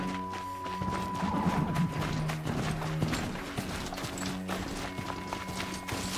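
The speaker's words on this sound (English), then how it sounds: "A horse!" A horse gallops in Horizon Zero Dawn with steady, loud clip-clopping hoofbeats that continue throughout alongside other game sounds.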